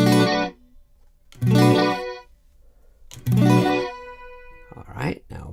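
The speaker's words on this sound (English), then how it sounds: "I'm going to bring the diffusion all the way down to minimum and just play a chord." A chord played on an iPad through the FAC Alteza reverb effect with diffusion set to minimum rings out three times, each strum decaying into a reverberant tail, followed by a brief swept wet noise at the end.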